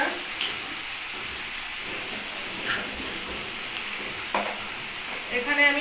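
Fish curry with cumin cooking in a pan, a loud continuous sizzle and hiss with occasional stirring scrapes, close and steady, with a faint voice briefly at the end.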